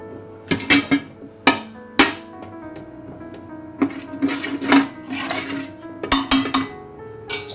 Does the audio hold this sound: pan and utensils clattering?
yes